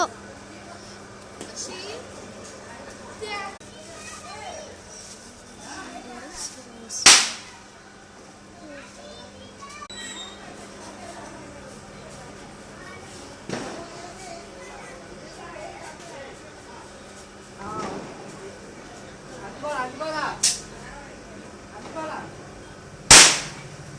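Sharp firecracker bangs pop out a few times, three loud cracks spaced apart, amid children's voices and chatter in the background.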